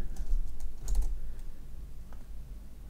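A password is typed on a computer keyboard in a user sign-up form, soft irregular key clicks in short clusters, close and fairly quiet, with no talking.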